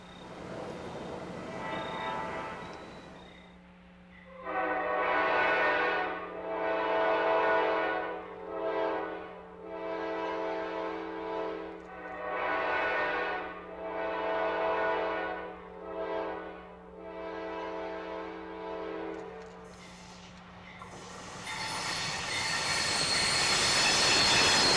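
A CSX freight train rolls past on rails along a line with an old limestone quarry, its cars rumbling loudly and steadily for about fifteen seconds with a sustained low hum and rhythmic surges, then fading as broadband noise rises at the end.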